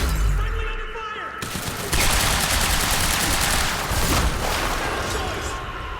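Sustained heavy gunfire from the game Quantum Break, a loud, dense crackle of overlapping shots and shattering impacts that intensifies after a deep opening rumble and barely lets up.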